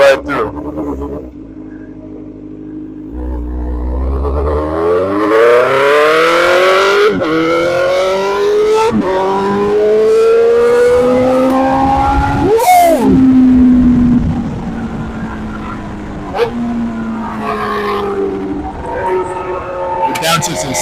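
A Suzuki GSXR 600 sport motorcycle with 1000cc exhaust headers revs up in rising, stepped pulls with gear changes, pitch climbing then dropping sharply, then settling to a rumble; a voice talks over it.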